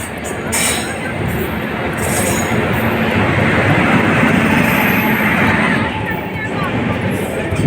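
A passenger train pulls in and rolls on in a loud, sustained rumble with metallic wheel squeal and rattling carriages, voices faintly audible beneath the noise.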